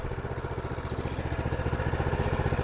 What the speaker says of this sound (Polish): I chodzić sobie ta zagęszczareczka, grzeje się, niech się nam zagrzeje